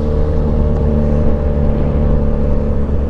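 Riding pillion on a motorcycle in road traffic, a loud, steady engine drone with a low rumbling hum continues without break.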